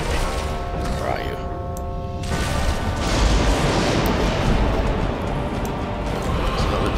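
Machine gun fire in the World War II shooter game Sniper Elite V2, dense rapid bursts forming a continuous loud rattle with booming impacts, a voice speaking briefly near the start.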